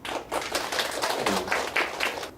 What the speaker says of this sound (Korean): 두 분인데 박수 한번 쳐주세요